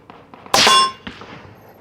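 A single suppressed rifle shot through a Dead Air RXD Ti 30 caliber titanium suppressor fired outdoors toward a mountain, a sharp metallic crack with a brief ringing tail and a faint echo after it.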